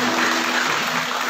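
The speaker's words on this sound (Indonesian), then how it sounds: "berikan tepuk tangan yang meriah" A crowd claps continuously, a dense wash of applause filling the room.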